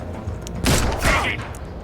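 A gunshot fired from Overwatch in the turn-based game Mutant Year Zero: Road to Eden, two sharp loud cracks about half a second apart over a low background hum.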